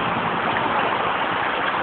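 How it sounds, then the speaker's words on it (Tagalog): Strong floodwater current rushes steadily past in a continuous loud broadband roar during a flood in Calumpit, with no voices over it. "makikita po natin yung agos ng tubig, talagang napakalakas"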